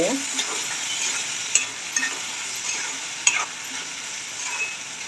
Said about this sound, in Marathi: डाळ भिजत घातलेली होती ती डाळ टाकून देते